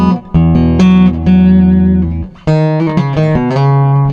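Fender Acoustasonic Standard strung with electric strings, run through an Ampero modeller set to an OM-style Martin acoustic voice, played as a few bright plucked chords and short melodic notes, close and loud with no voice.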